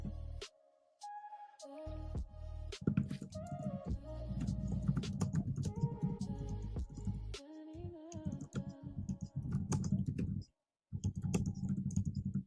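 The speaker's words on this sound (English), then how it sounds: "He's typing something" Someone types on a computer keyboard in a quiet room, soft irregular key clicks tapping along over low background tones.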